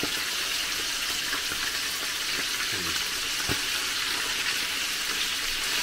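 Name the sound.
mackerel frying in a pan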